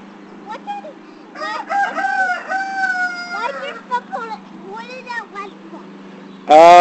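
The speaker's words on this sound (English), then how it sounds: "There was a chicken outside of the fence. It's a chicken." Drawn-out, wavering crowing calls from a chicken outdoors, heard fairly close in several bursts over a low steady hum, ending in a sudden loud harsh noise.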